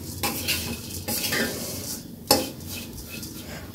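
Flattened rice (chira) dry-frying in a pan, stirred constantly with a metal utensil, giving repeated scraping and clinking strokes over a soft, faint crackle.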